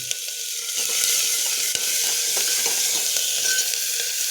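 Green chili and onion tipped into a hot pan with cumin, sizzling loudly and steadily as they fry and are stirred, with no talking.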